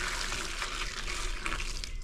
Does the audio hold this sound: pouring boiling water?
yes